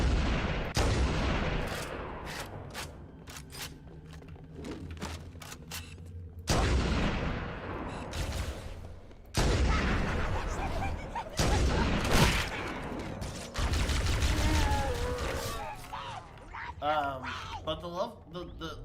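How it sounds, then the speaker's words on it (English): Weapons fire in the Halo video game with repeated booming gunshots and bursts of rapid fire, some echoing, mixed with other game effects, and a voice talks over much of it. "But all the weapons sound phenomenal."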